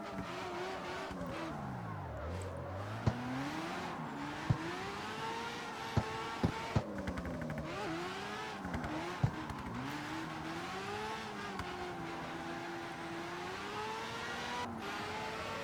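Han's Tokyo Drift Mazda RX-7 drifts in the CarX Street racing game. The engine revs rise and fall in sweeping waves, with tire squeal and a few sharp clicks over a steady engine drone.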